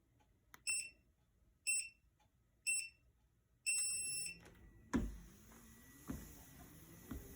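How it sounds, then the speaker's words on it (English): Four short electronic beeps in a steady rhythm from a GOYOUTH walking pad treadmill's control panel, followed by its motor whirring up with a few clunks. "Pressing M just beeps at you."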